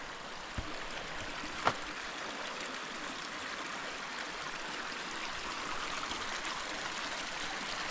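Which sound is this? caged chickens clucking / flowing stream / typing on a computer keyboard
flowing stream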